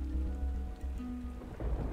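Thunderstorm ambience from the video game Sword and Sworcery: a steady wash of heavy rain with low rumbling thunder rolling continuously beneath it, no voices.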